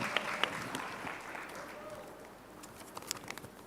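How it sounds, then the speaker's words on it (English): Audience applause for a speaker taking the podium at a conference opening plenary, faint and fairly distant clapping with a few sharper nearby claps, mixed with low room murmur. "Please give him the presidential applause he needs."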